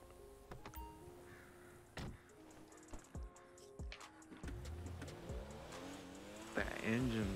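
A car engine revving in the video game GTA 5, with bursts of acceleration and rising engine pitch, occasional tire noise, and someone talking over it in the foreground.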